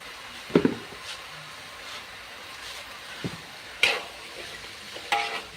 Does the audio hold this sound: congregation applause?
no